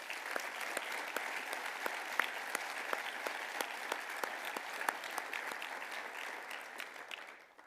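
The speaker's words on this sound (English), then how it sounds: "maybe we can give all of the teams a round of applause again" An audience applauds the engineering capstone design teams at a university showcase, steady dense clapping throughout that tapers off at the end.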